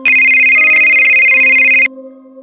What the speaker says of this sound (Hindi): लेकिन फोन फिर भी बजता रहा।